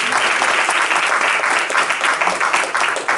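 A crowd claps loudly and continuously in an auditorium, a thick, even wash of applause with no gaps from start to finish.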